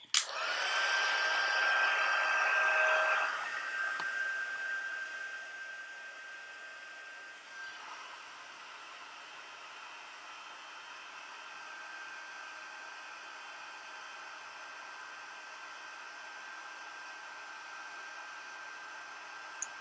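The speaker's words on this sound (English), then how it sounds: "Heat it up with the heat tool gun." A heat gun starts with a loud, abrupt whooshing blast of hot air while melting embossing powder, then settles into a softer, steady airy hiss that runs on without a break.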